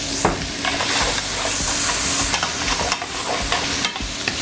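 Peppers, onions and garlic frying in olive oil in a pan, a loud steady sizzle and hiss with stirring scrapes throughout.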